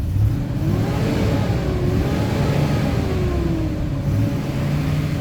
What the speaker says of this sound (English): Let me rev this up so you can hear this engine.